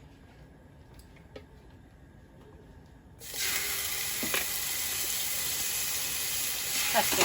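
Minced garlic hits hot oil in a pan and a steady bright sizzle starts abruptly midway, continuing loud and even after a quieter stretch with a brief spoken remark.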